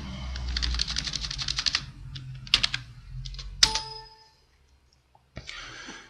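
Typing on a computer keyboard, with a fast close run of key clicks, a few sharper isolated presses including a louder Enter strike, then a brief silence and a last click.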